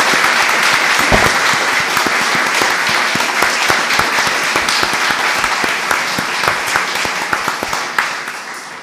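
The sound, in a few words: audience applause for two festival guests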